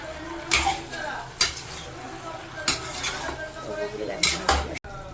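A spoon clanks and scrapes against a cooking pot as chicken is stirred with salt, several sharp metallic knocks spaced irregularly over a low background.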